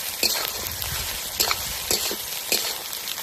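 Ginger and garlic frying with onions in a pan, a steady close sizzle broken by several sharp stirring scrapes and clinks at irregular intervals.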